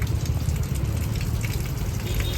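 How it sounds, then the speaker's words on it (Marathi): Water pours off a soaked cloth in a steady, dense, loud gush that continues close by for a couple of seconds with no pauses. "पहिले पाणी काढू हे बघा पाणी कसं पडतं"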